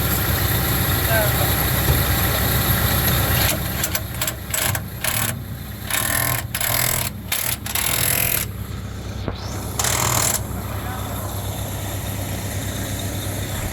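An HP 20 grout pump engine runs at a steady idle, loud and continuous throughout, with brief dips and interruptions in the middle before the drone settles back in.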